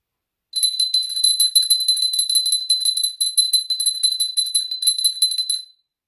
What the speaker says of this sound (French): au son de la cloche, il s'envole tout droit vers le pôle Nord